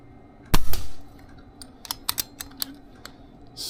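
A rifle, a RAW Micro Hunter fitted with a Ryu suppressor, fires one muffled, close shot, followed by a scatter of light, sharp mechanical clicks.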